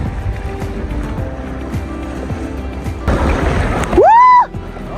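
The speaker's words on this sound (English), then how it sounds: "The sea was wild today." Rough winter sea during a storm, heard from a kayak: a loud, steady wash of waves that swells near the end, with a brief rising tonal call just before it fades.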